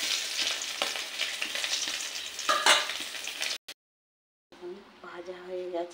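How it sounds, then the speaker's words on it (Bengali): Fish pieces sizzle and crackle steadily in hot oil in a kadai, loud and continuous for several seconds, then cut off abruptly; after a short gap a voice talks over a quieter background. "মাছগুলো লাল লাল করে ভাজা হয়ে গেছে"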